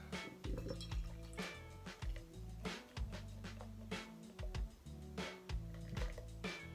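Boulder Beer Shake Chocolate Porter poured from the bottle into a glass, close glugging and splashing pulses with bubbly fizz and an occasional light clink, repeating for several seconds without talk.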